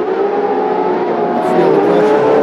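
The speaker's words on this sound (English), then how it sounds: "Oh, here comes some cars." Cars on a racing circuit: a loud, continuous engine drone with a steady pitch that slowly rises as the cars draw closer, filling the whole stretch.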